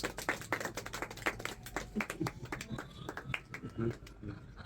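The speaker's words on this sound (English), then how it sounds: "Okay, round of applause." A small group gives a round of applause during a vocabulary class, with a few close, uneven hand claps that patter briefly and loosely.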